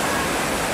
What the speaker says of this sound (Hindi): सड़क पर पानी इतनी तेजी से बह रहा था मानो वहाँ कोई नदी बह रही हो।